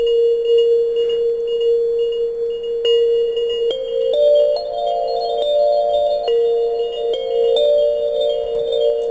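A synthesizer Dream Bell preset plays a sustained, bell-like tone with shimmering high partials. Partway through, layered notes join in and form a soft, chiming chord passage.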